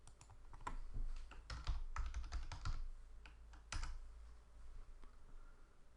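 Keystrokes rattle on a computer keyboard as a value is typed into a software input box and Enter is pressed, with irregular clusters of close, crisp clicks and brief pauses between bursts, and no voices.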